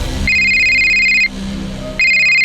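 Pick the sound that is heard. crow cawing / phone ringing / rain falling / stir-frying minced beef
phone ringing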